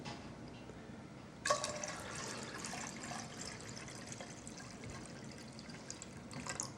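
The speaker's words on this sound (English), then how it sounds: "I'm gonna put a little more water because that doesn't look like quite enough water to cover these sweet potatoes properly" Water pours into a pot of sweet potatoes, starting abruptly and then running as a steady, soft splashing trickle that carries on to the end at a low level.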